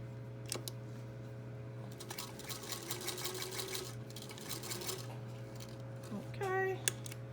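Sewing machine stitching a fabric face mask runs in short bursts of rapid needle chatter, fairly close and quiet, with a steady motor hum underneath and a brief squeak near the end.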